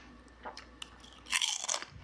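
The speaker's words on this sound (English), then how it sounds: "Nice crunch. Listen to the crunch." Zapps Cajun dill Gator Taters potato chips crunched close to the mouth, a few soft bites followed by a louder burst of crisp crunching chews, quiet and up close.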